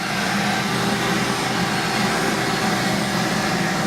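Vacuum hose drawing air out of a foam cushion wrapped in Dacron, a steady loud roaring whoosh that holds constant throughout with no variation or talk.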